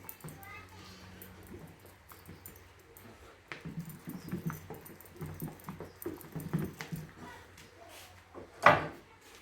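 A can of MS primer is shaken by hand before mixing for a Nissan 280zx engine bay repaint, giving a quick run of close rattling and knocking bursts; quiet talk is heard nearby.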